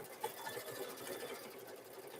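An embroidery machine stitches out free standing lace, its needle running in a steady, fast mechanical chatter throughout at close range, with no talk.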